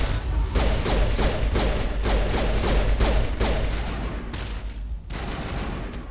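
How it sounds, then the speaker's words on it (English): Enemy gunfire in the Mass Effect game: dense, continuous volleys of shots rattling through the whole stretch, loud and close, with heavy low-end thumps and brief gaps before the firing resumes. "They're still shooting at me."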